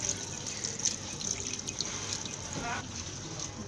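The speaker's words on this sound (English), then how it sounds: "I'm going to add the pepper water." Pepper water poured into a pot of catfish pepper soup makes a soft, continuous trickling and splashing close by, moderately quiet throughout.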